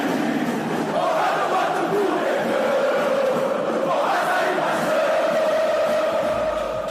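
Recorded fan chant of the Garotos do Ninho supporters, played over the stadium sound system in an empty stadium during a Brazilian league match; a broad, steady crowd-singing wash with melodic swells, loud and continuous throughout.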